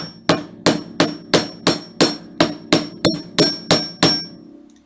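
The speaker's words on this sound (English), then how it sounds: "I'm just going to do a quick hammer on the curves" Twelve sharp metallic hammer strikes on wire laid on a steel bench block land at an even, steady rhythm, each ringing briefly before the next blow.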